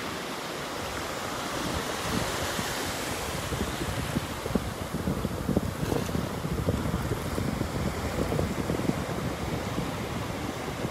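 Continuous roar of surf at Pawleys Island, South Carolina, with waves washing in and breaking, broadband and steady, mixed with some wind rumble, no voices.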